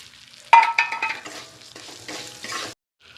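A spoon scrapes and stirs fried vermicelli with raisins, crushed cardamom and sugar in a hot pan, producing a brisk sizzling rustle in a few short strokes that then stops abruptly.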